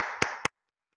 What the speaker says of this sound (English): So can we give them all a round of applause?